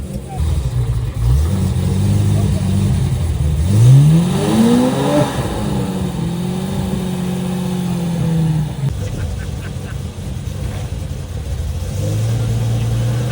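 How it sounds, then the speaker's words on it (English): An old Jaguar XJ with a V12, called the Supercat, drives past at a car show in Miami, its engine revving up in rising sweeps and then settling into a steady drone, with a crowd talking around it. "look at this old Jag XJ. Apparently it has a V12 in it, and it's called the Supercat, and I think that is Magnus Walker driving i"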